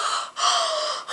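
A voice imitates heavy, laboured breathing like an asthma attack: one long, rasping gasping breath, a brief pause, then another, close and loud.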